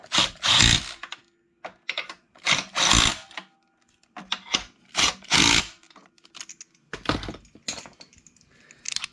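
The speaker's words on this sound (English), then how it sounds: "Then you take your Milwaukee impact driver again. Give them a couple other duggas." A Milwaukee impact driver tightens bolts on a Grizzly 550 clutch assembly in a garage, with several separate bursts of rapid rattling hammering, some longer and some short, close and loud with quiet gaps between.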